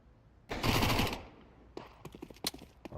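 Automatic rifle fire sprays in a Counter-Strike match: one sustained burst of rapid shots, then scattered single shots and short cracks, moderately loud with no talk.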